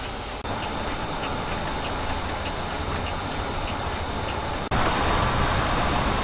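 Heavy road traffic flows along a busy seven-lane road at night, heard from inside a bus as a continuous broadband rumble and hiss, with a sudden jump in loudness near the end.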